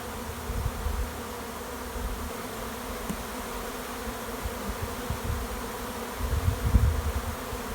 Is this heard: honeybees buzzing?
yes